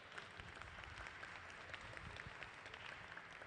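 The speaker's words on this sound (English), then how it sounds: "let's give them a round of applause for all their hard work" Audience applause at a museum hot shop after a glassblowing demonstration, soft continuous clapping from a modest crowd heard faintly at a distance.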